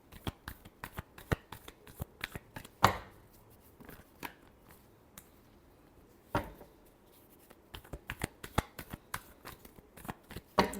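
Tarot cards are shuffled by hand in repeated crisp riffles and slaps, with sharp snapping peaks scattered between softer rustling passages and no talking.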